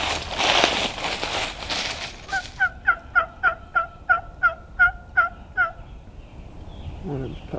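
Wild turkeys on Missouri public land gobbling while strutting: about a dozen quick, evenly spaced gobbles rattle out in a burst, clear and fairly close, after some rustling and handling noise.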